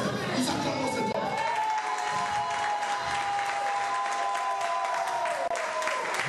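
A church congregation applauds in a steady, dense wash of clapping that fills the room, with sustained tones sounding underneath throughout.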